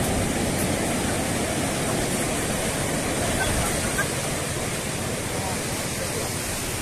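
Sea surf rolls onto the beach at Cox's Bazar, a dense, continuous roar of breaking waves with wind, loud and unbroken.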